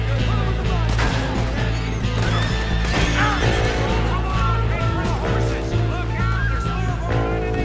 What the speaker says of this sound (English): My horse, my horse, my horse.